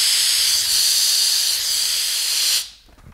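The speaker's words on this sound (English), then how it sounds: "you turn your continuous steam dial to the fully right position for continuous steam" A Eurosteam Next Generation 6199 steam iron releases continuous steam in a loud, close, steady hiss that cuts off abruptly near the end.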